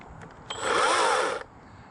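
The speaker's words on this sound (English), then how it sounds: "Now I can go in there and saw with this saw." Saker battery mini chainsaw whirs up abruptly for just under a second of close, loud motor buzz, then cuts off sharply, with quiet surroundings before and after.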